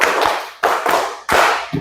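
A classroom of students claps together in a counted rhythm game, sharp group claps landing about every half second, three full bursts and the start of a fourth, close and loud with no talking.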